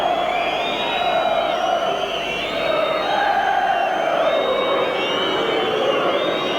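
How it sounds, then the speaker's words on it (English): A large football stadium crowd at a 1990 Leeds United versus Manchester United match sings and chants in a sustained, rising roar that fills the clip without pause. "the crowd now is starting to raise the tempo, and that's good to hear"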